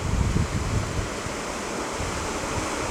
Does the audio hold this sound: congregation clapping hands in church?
no